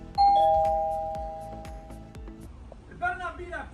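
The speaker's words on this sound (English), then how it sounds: "What is it with everyone ringing the doorbell today?" A doorbell rings indoors with a loud chime, a few bright tones that ring on and fade over the next two seconds, then a person starts talking.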